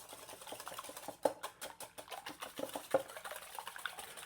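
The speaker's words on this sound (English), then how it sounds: "I'm going to start to whisk this up a little bit" Eggs are whisked with sugar in a bowl for Japanese okonomiyaki batter, heard as quick, light, irregular clicking and tapping strokes, close and fairly faint, with no talk.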